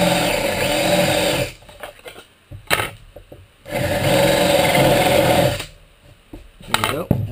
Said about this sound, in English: just countersink a little hole using a 1-inch Forstner bit